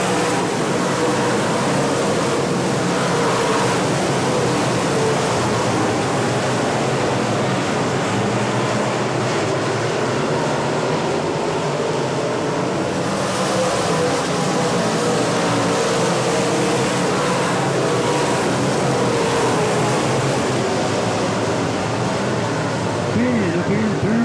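Sportsman race cars roar around the track at Atomic Motor Speedway in a steady, loud wash of engine noise that swells as the field passes, with a track announcer's voice faintly mixed in.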